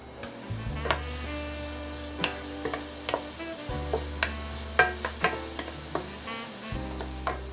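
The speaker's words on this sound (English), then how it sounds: "Onion and garlic goes in, and we're gonna saute them" Onion and garlic sautéing in olive oil over medium heat, a steady close sizzle with regular spoon taps and scrapes against the pan, no voices, while a low droning hum comes and goes in the background.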